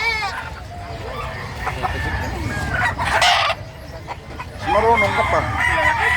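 Rooster crowing at a busy Filipino poultry market with several long crows rising over a dense crowd of chatter and clucking, people talking nearby throughout.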